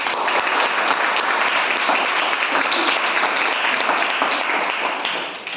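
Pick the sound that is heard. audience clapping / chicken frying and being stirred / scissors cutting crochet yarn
audience clapping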